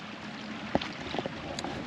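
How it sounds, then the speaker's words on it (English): Steady wind noise with soft splashing of choppy water, a few brief knocks and slaps against a hull, fairly quiet throughout. "It's windy. Waves are choppy."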